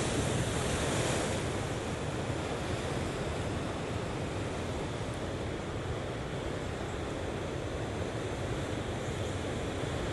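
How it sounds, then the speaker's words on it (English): Steady ocean surf washes into natural rock pools along a coastal trail, a continuous loud roar of breaking water with wind buffeting the microphone and no voices. "it's from the ocean water just flowing in there"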